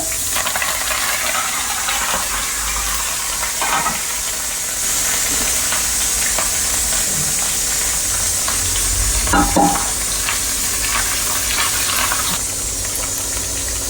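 Garlic and curry leaves sizzle in hot oil with popping mustard seeds for a Kerala cucumber curry: a steady, loud frying hiss throughout, broken by scattered small pops and crackles.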